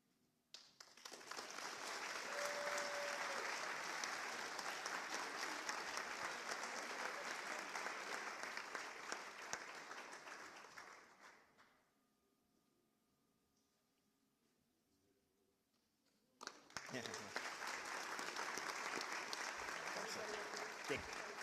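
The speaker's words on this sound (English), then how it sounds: "one final big round of applause for all of our recipients" Audience applause at a family recognition and bluffs renaming ceremony, a dense sustained burst of clapping for about ten seconds, then a quiet pause with faint background voices before a second strong round of applause begins.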